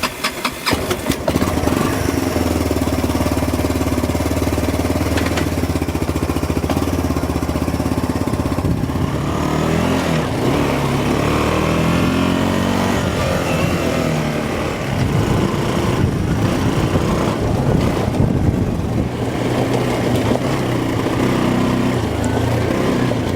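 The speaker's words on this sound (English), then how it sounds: "I'm gonna take it for a quick little spin down on the bottoms, make sure everything still sounds right" Kawasaki 300 ATV engine running steadily on a test ride through farm bottomland after repairs, a loud, continuous mid-pitched drone that rises and falls with the throttle. No voices break through it.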